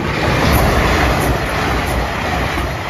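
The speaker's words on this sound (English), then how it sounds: "Oh, it's that engineering train." An engineering train rolls past a level crossing at Arksey, a loud, steady rumble of wheels and engine noise filling the whole stretch without a break, close by and with no voices.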